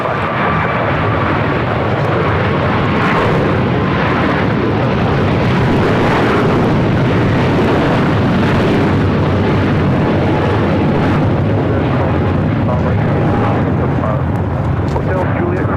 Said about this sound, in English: That is Qatar Airways 742 taking off to Doha on the A350 1000.